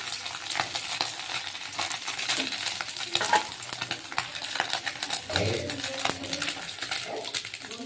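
Fried fish pieces are lifted one by one out of a pan of hot oil, which sizzles steadily close by, broken up by light clinks and scrapes of a utensil against the pan.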